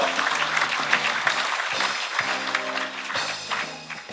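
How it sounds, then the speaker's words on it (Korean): A delegate hall at a Korean union federation's annual congress bursts into sustained applause during an award presentation, the broad clapping steady with a low tonal hum or music underneath. "힘찬 경제 박수 부탁드리겠습니다."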